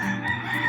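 A rooster crows close by, one loud, sustained, strained call filling the brief moment, with no voices.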